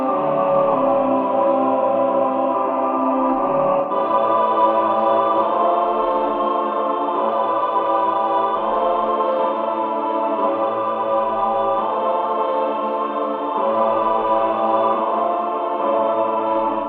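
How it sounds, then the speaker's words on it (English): Orchestral synth tones from a Vako Orchestron soundpack, bathed in added reverb: a sustained, layered chord pad holding steady at full level for the whole stretch with no talk over it. "you can add some audio effects giving the sounds another atmosphere. For example, let me add a reverb."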